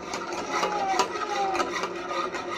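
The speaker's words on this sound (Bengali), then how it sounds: "ঘন দুধের মিশ্রণে আমি আস্তে আস্তে করে সুজি আর চিনিটা মিশিয়ে নিচ্ছি" Spoon rubbing steadily against a pot as semolina and sugar are stirred into thick milk for an eggless pudding, a soft repeated scraping close up.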